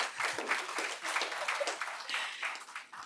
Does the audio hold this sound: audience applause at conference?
yes